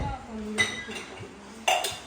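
Dishes and utensils being gathered up after a home meal, giving two distinct clinks of metal and crockery over a faint steady hum in a quiet room.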